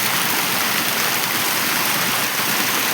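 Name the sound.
heavy rain outside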